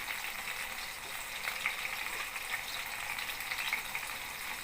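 Soya chunks frying in oil in a pan, a steady close crackling sizzle with small pops throughout, no voices.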